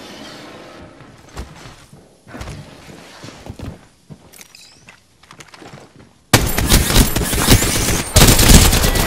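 Automatic gunfire and footsteps in an Apex Legends match: scattered shots and movement at first, then a loud, dense burst of sustained fire over the final few seconds.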